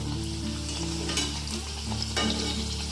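Aloo puris deep-fry in hot oil in a kadai, giving a loud, steady sizzle and bubbling throughout, close up, with a low hum underneath and a few brief scraping touches.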